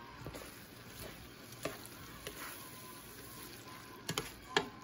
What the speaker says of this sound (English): Do a little light stir because you don't want your rice mushy.